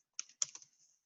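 A few quick keystrokes on a computer keyboard, entering a search term into an indicator search bar, come as two short close clusters of clicks with a brief gap, then fade.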